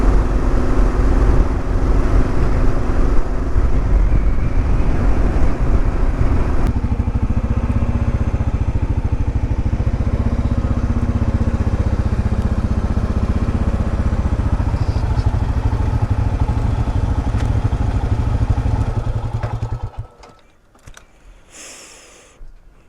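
Motorcycle ride at the Grand Canyon North Rim, a continuous loud engine rumble mixed with wind buffeting for about twenty seconds before the noise drops away to quieter surroundings.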